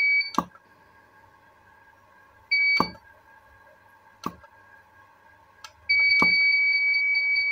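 Repeated sharp clicks of a Visatec Logos 1600 monoblock studio flash firing are each followed by high electronic beeping tones, with a sustained Error A2 alarm beep continuing at the end.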